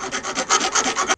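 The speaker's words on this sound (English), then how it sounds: "Let's get this thing filed down and clean it up." A hand file rasps across a metal block-off plate for a 3rd-gen Honda Prelude in about ten quick, even back-and-forth strokes, close and loud, ending abruptly.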